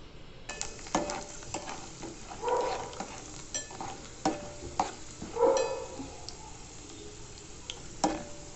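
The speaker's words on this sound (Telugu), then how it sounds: "పప్పులన్నీ వేసేసుకున్నాక కొంచెం వేగనిద్దాం." Lentils fry in oil in a pot for a sesame tomato curry. A quiet, close sizzle runs underneath repeated scraping stirs of a spoon against the pot.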